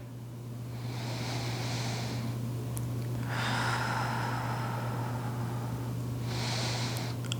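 Deep breathing during a beginner aerial hammock yoga class: a few long, airy breaths, each a couple of seconds long, close and soft over a steady low hum, with no talk.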